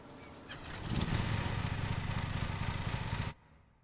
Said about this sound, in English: Hold Z to start the vehicle's engine.